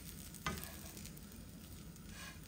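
Wooden spoons stirring food in a frying pan, with a steady low sizzle throughout and one sharper scrape or knock near the start, close and moderately loud.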